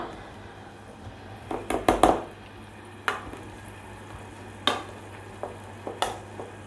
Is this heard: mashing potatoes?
yes